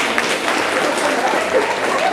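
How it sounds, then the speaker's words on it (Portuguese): An audience applauds six volunteers at a community meeting in Conceição das Crioulas quilombo, steady dense clapping filling the room from start to finish with no talk over it. "eu queria que vocês aplaudissem os 6 voluntários aqui."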